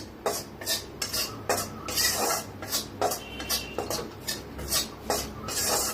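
A spoon scrapes and stirs stuffing masala as it roasts in a pan for stuffed capsicum, giving a steady rhythmic rasping with short strokes repeating every half second or so.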